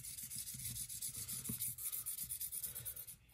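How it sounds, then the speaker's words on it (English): Light rubbing strokes of 1200 grit sandpaper along the edges of a fingerboard deck, a steady close-up series of soft, quick scuffs with no talking. "I like to take a little piece of 1200 grit"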